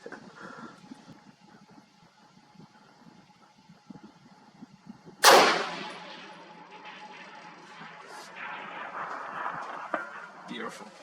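A single sharp, loud report comes from a Stag Arms semi-auto rifle in 6.5 Creedmoor on an open long-range course. It cracks once against a quiet background and is followed by a lingering echo and a low murmur.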